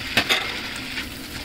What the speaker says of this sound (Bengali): চিংড়ি মাছগুলো এখন ভেজে নিব রসুনের সঙ্গে।